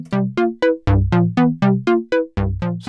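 A modular synth voice with its plain envelope, the Wasp filter taken out of the circuit, plays a steady run of about a dozen loud, plucky tonal notes, each starting sharply and decaying quickly in an even rhythm.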